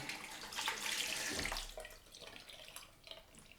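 Water runs from a tap into a sink during a wet shave with a straight razor, a steady broadband hiss that swells and then eases to a quieter trickle.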